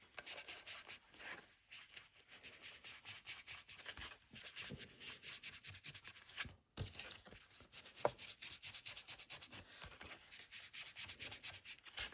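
Ink pad rubbed across cardstock to apply Scorched Timber ink, including along a fold, giving a steady, close, dry scuffing and rasping with brief pauses and no talk.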